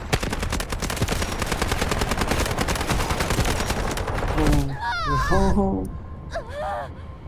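Rapid, sustained SMG-45 submachine gun fire in the shooter game Delta Force rattles loudly for several seconds, then stops, followed by a short mix of game effects and tonal sounds.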